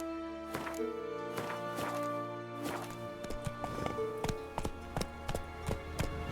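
Roach the horse galloping in The Witcher 3: Wild Hunt in Velen, shown as a steady run of hoof thuds over continuous game music, moderately loud and close, with no one talking.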